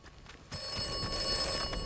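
Telephone ringing in a phone booth in the video game Atomfall, a bright electronic ring that starts abruptly after a quiet moment and holds steady, fairly loud with no talk.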